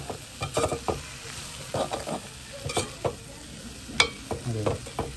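Mushroom curry is stirred in a sizzling pan, with repeated scraping spoon strokes in an uneven rhythm over a steady frying hiss, close and moderately loud.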